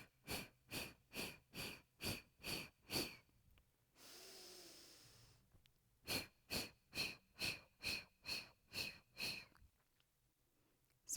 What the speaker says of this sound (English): the exhale will come out in 8 forceful strokes